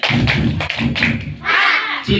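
A group of children claps along in a counting game at a Quran study class, several close, dull claps with brief pauses between them, mixed with voices and finishing in a burst of chatter.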